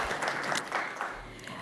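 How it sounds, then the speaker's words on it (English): A brief burst of audience applause at a community institute presentation, moderately soft and dense, lasting under two seconds. "Let's give it a round of applause."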